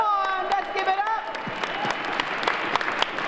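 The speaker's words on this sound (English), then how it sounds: "Can we give them a round of applause?" Competition finalists on stage draw warm audience applause, dense rapid clapping that rises after a voice speaking over the opening and carries on as a sustained crackle through the rest.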